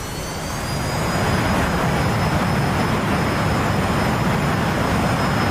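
An F-105 Thunderchief jet in DCS World roars steadily down the runway on its takeoff roll, a loud, continuous engine rumble with a high whine on top, building slightly at the start and then holding constant throughout.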